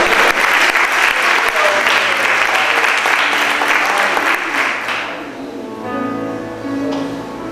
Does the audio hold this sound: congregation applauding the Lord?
yes